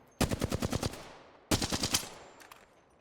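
Automatic weapon in the shooter game Apex Legends firing two short, crisp bursts of rapid shots, the second following about a second after the first, with no talk over it.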